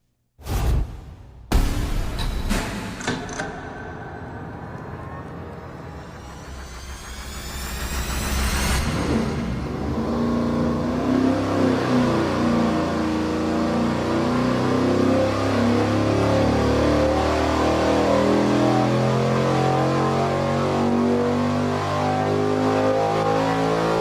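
A race engine on a dyno fitted with the smallest exhaust duration camshaft fires up with sharp bangs, then revs hard and climbs to a loud, sustained high-rpm scream, close and continuous without talk.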